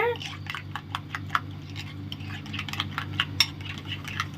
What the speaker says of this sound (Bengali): এখন আমি ভালো করে এটাকে মিশিয়ে নিব, দইটাকে মশলার সাথে